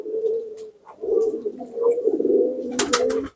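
Caged pigeon cooing nearby in a run of soft, rolling throaty calls, with a few light clicks and rustles near the end.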